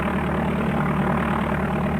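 Simulated aircraft engine in DOS Flight Simulator 4, a steady low droning buzz with a constant pulsing tone, continuous and evenly loud with no voices.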